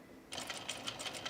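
A sewing machine stitches a seam through gathers on an Azores dress, a quiet rapid rattling burst that starts after a brief pause and runs steadily to the end.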